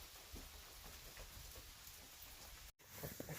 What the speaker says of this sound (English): Yeah, it's still raining.